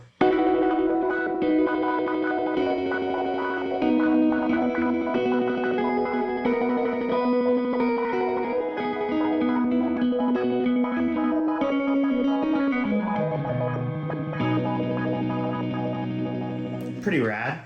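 Hologram Electronics Microcosm effects pedal producing a dense, shimmering wash of chorused, echoing tones with layered sustained notes, loud and continuous throughout, ending with a brief burst.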